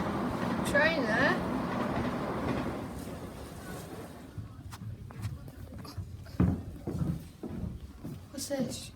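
A train rumbles along near a castle, with a steady rolling clatter that is strongest at first and then eases. People talk close by and footsteps sound over the rail noise.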